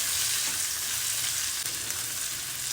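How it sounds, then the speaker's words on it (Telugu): Chopped onions fry and get stirred in a hot pan for an amaranth-leaf stir-fry with dried red chillies and garlic, giving a steady, close, loud sizzle that runs unbroken throughout, with no talk. "కట్ చేసి పెట్టుకున్న ఆనియన్స్ వేసేసుకొని బాగా కలుపుకోవాలి"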